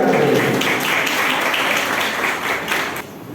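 Audience applause at a school Independence Day ceremony, steady and dense clapping from a crowd that carries on for a few seconds and then thins out near the end.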